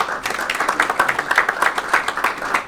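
Guests at a men's day luxury event applaud as someone is called on stage: steady, lively clapping from a sizable crowd, close and full, with individual claps audible throughout.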